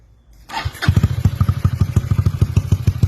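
A motorcycle engine with a YES aftermarket exhaust starts up, then idles with a loud, deep, rapid popping rumble close by.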